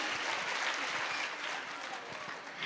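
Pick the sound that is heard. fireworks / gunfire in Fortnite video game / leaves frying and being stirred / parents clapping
parents clapping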